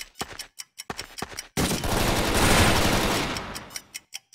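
Video game gunfire, with scattered single shots followed by a sustained burst of rapid automatic fire lasting over two seconds, then more isolated shots, loud and close.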